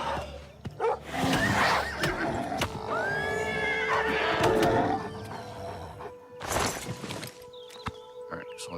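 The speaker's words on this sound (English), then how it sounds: "let's get the horse and put him in here." A horse whinnies in Oblivion Remastered, its neigh rising loud and close amid busy game sounds, with someone talking over parts of it.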